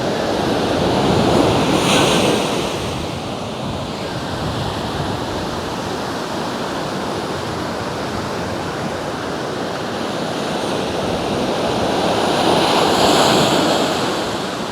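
Steady roar of ocean surf on a beach in Aurora, Philippines, swelling near the start and again near the end as waves break, with no voices.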